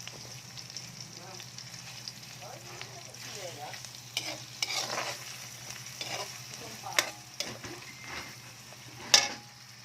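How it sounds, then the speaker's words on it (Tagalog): Chopped tomato sautéing in a pan for ginisang upo with ground meat, a steady sizzle under repeated stirring scrapes and occasional sharp utensil clinks against the pan, close and continuous with no talk. "Ayan guys, nilagay ko ng kamatis. So, isap-isapin na natin yan. Gisa-gisahin na natin."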